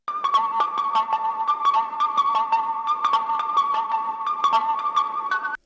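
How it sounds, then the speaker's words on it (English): Synth melody played in on a MIDI keyboard and run through RC20 and Decapitator effects for a nostalgic jungle/dnb feel: bright, steady sustained tones with regular plucky accents, loud and alone for about six seconds. "So I've just played this in on my MIDI keyboard"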